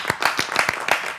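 A short burst of rhythmic hand clapping, several sharp claps in quick succession, close and fairly loud.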